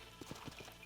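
Horses' hooves clop on the ground in the Western video game Red Dead Redemption, a quick run of dull, close thuds over a steady ambient bed, fairly quiet.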